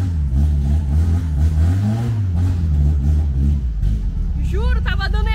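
A Fiat 147 engine fitted in a Fiat Fiorino starts and revs in a garage, its rising and falling mid-pitched drone loud and close, while excited voices talk and shout over it.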